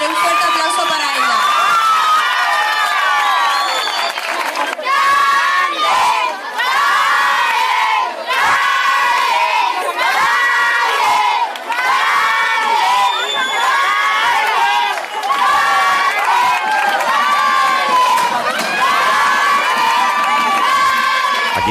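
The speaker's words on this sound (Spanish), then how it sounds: "Pero un fuerte aplauso para ella." A large crowd at a village festival in Almendral, Badajoz cheers and shouts loudly for the festival queen, with children's excited voices mixed in, sustained for about twenty seconds.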